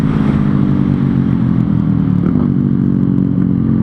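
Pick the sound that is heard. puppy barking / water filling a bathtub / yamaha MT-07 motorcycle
yamaha MT-07 motorcycle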